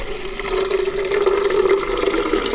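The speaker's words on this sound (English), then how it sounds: "It's like no water pours like raw water. It's like a waterfall." Raw water pours in a steady, continuous stream into a blender for a smoothie, splashing and gurgling at close range with no talking.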